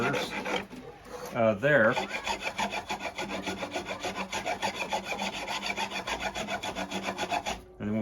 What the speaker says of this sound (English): It's just knocking down these sharp peaks of the nodes on the bamboo, so that I don't lift any splinters